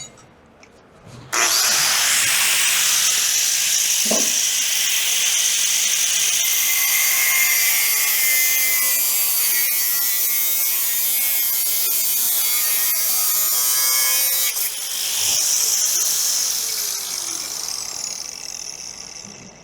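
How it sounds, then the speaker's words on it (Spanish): A cutting disc slices through material on a table, starting with a sharp high whine that holds loud and steady for over ten seconds, dips briefly, then resumes before tapering off. "cortamos ya 3 materiales diferentes con el mismo disco"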